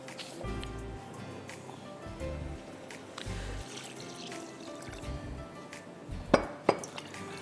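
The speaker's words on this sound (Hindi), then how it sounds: "और इसको चलाइए, लेकिन एक विस्क चलाइए।" A whisk clinks and scrapes in a pan of chicken soup and milk, with soft liquid swishing, gentle irregular strokes and two sharper metallic taps near the end.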